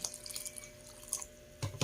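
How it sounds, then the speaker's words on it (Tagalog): Water trickles and drips into a container of kutsinta mixture, with a brief louder splash of pouring near the end; close and fairly quiet. "At lalagyan ko po ito ng tubig."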